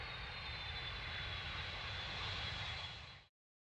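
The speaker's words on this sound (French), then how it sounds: "L'avion atterrit." A fixed-wing airplane lands with a steady, loud roar of aircraft engines that holds for about three seconds and then cuts off abruptly.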